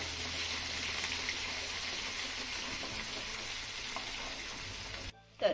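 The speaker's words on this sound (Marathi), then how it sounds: "आता आलं आणि लसूण आपल्याला चांगलं परतून घ्यायचं आहे" Crushed garlic and grated ginger sautéing in a pan, a steady hiss of frying oil that carries on evenly for about five seconds before cutting off abruptly, followed by a brief clatter, with no talking.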